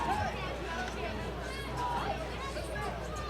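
High school football crowd in the stands at Mogador: steady, moderately loud murmur of many voices with a few scattered calls, a continuous wash of babble throughout.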